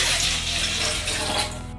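Water pours steadily into a cup or pot for heating on a stove, a continuous close splashing stream that cuts off near the end.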